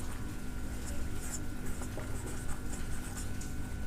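Chalk or marker scratching on a board during a trigonometry lesson, a run of quick close strokes and squeaks over a low room rumble, with no voice over the writing.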